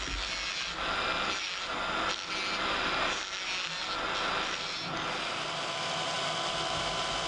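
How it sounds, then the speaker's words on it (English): A Dremel rotary tool with a thin cutting disc grinding a groove into a dime for a wooden crankbait lure, a close, continuous harsh abrasive whir that pulses with repeated passes, no voices. "a cutting disc on the Dremel tool makes quick work of it"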